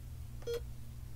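A Timex Sinclair 2068 computer gives a single short, clean electronic beep at one steady pitch, faint over a low hum.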